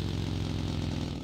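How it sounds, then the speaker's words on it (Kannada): A motorcycle engine in PUBG Mobile gives a steady, close, buzzing drone that holds at even loudness throughout the short moment. "ಮತ್ತೆ ಬೈಕ್ ಎತ್ಕೊಂಡು"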